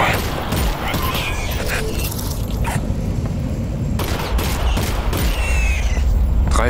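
Rapid bursts of Half-Life: Alyx gunfire crackle over a dense, busy backdrop of mechanical clatter and booms, loud and continuous throughout.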